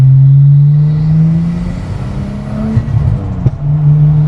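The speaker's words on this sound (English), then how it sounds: "Nice, got a bit of pop and a bit of burble there, overrun." Nissan Skyline R34 GTT sedan, bagged, revving loudly then lifting off, the steady engine drone giving way to crackling pops and burbles from the exhaust on overrun, close and alone without voices.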